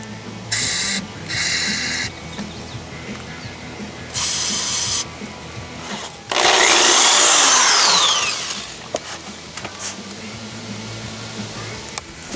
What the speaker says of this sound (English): you need to drill a 7/32 hole.